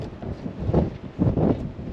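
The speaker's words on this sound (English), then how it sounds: "Golly, it's windy out." Gusty wind buffets the microphone outdoors, a low rumbling roar that swells in two strong bursts before easing off.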